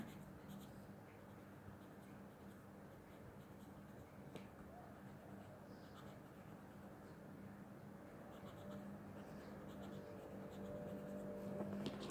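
Soft, steady scratching of a colored pencil shading across paper, close and quiet, with faint background hum.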